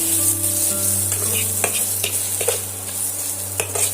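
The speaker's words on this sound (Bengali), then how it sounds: "এবার আমি সমস্ত মশলার সঙ্গে আবারও ডিমটা এইভাবে ভেজে নিচ্ছি" Egg fries with spices in a hot pan while being stirred, a loud steady sizzle punctuated by scraping strokes of the spatula against the pan, with no voices.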